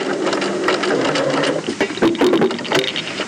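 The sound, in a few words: sewing machine stitching a strapped cuff placket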